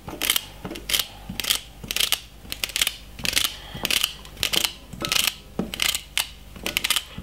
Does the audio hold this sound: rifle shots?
no